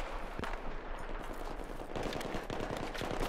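Gunfire rattles in a first-person shooter battle on Kharg Island, with repeated shots and bursts at moderate distance forming a continuous chaotic barrage.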